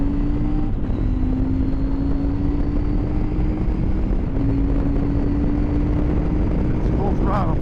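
A CFMoto IBEX 800T motorcycle engine runs at full throttle, its steady, rising drone loud throughout under heavy wind noise, dipping briefly as gears change.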